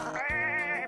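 A single sheep bleat, a short wavering call heard up close and alone.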